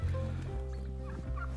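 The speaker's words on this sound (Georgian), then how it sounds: "ფართემკერდიანი ვერცხლისფერი ინდაური" An Australian broad-breasted silver turkey gobbles close by, one loud, rapid, throaty rattle lasting over a second with no talk around it.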